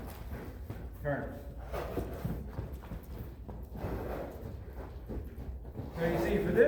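A horse being ridden for the first time, its hooves clip-clopping on the ground in an uneven rhythm at moderate distance, with a person talking over the hoofbeats.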